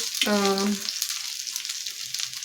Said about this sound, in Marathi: या साईडनेही आपल्याला भेंडी छान भाजून घ्यायची आहे